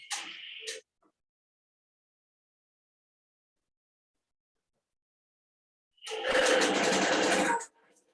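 A longarm quilting machine stitches through batting while the bobbin is tested: a brief buzzing run at the start, then silence, then a louder steady stitching burst of about two seconds, up close.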